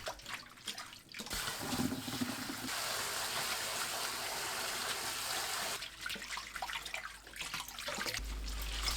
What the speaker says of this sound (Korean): 바로 찬물에 두세 번 헹궈내세요